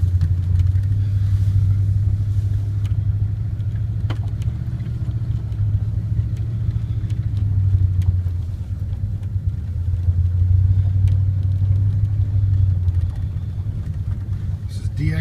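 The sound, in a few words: 1999 Dodge Ram 1500 5.2 engine driving in four-wheel drive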